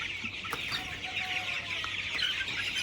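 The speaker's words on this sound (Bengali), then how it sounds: "এখানে আমার 1000 মুরগি আছে।" About 1000 27-day-old broiler chickens cluck and chatter together in a poultry shed, a steady busy flock sound over a low constant hum.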